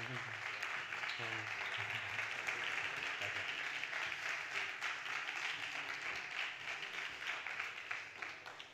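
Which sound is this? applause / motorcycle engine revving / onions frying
applause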